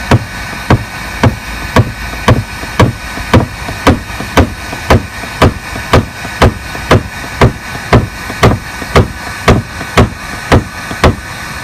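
A hammer strikes metal in a steady, even rhythm of about twenty sharp, loud blows, each ringing briefly before the next, close by with no voices.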